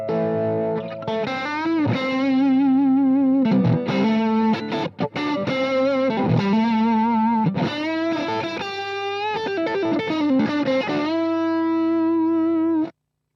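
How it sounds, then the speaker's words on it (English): A Fender Stratocaster electric guitar plays through a vintage Marshall amp with a distorted, biting tone, picking sustained notes and bends in a continuous phrase that rings out close and alone before stopping abruptly. "Okay, let's grab a Strat."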